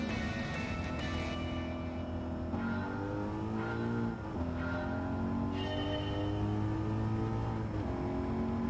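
Race car engines in Gran Turismo 7 at night, a loud continuous drone of several cars revving, shifting and sweeping up in pitch, with engines passing close throughout.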